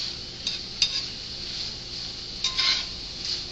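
Green beans and onions, the onions added frozen, stir-fried over high heat in a pan: a steady sizzle with a few scattered clinks and scrapes of a utensil moving the food around.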